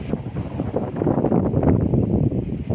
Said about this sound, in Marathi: माडाचे बाग सोबत वाऱ्याचा हा अखंड असा चाललेला मधुर ध्वनी